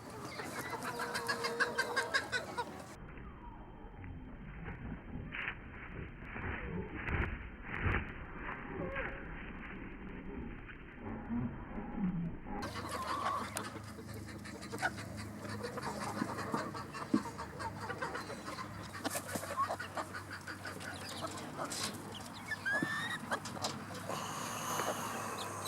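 Backyard hens and a Yokohama bantam cross rooster cluck and murmur as new birds are introduced to an older flock, soft scattered clucks and chatter over outdoor background noise throughout.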